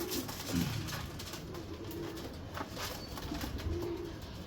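Pigeons gifted from Karachi coo faintly in low, intermittent throaty calls over quiet background noise, with no voices.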